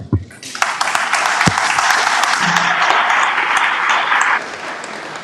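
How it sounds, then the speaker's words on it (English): Loud, close audience applause at a commercial real estate event, starting abruptly and holding as a thick, steady roar of clapping for about four seconds before dropping away. "Round of applause."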